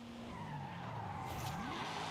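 Tires on a Nissan Skyline GT-R squeal and skid in a racing video game, a sustained screech with a sweeping engine tone underneath, continuous over the short span.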